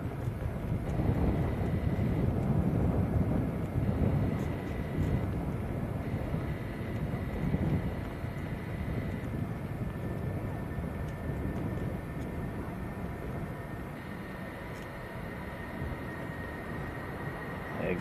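A Jet2 Boeing 757 takes off from Manchester Airport, a broad distant jet roar rumbling steadily and slowly easing off, with wind buffeting the microphone.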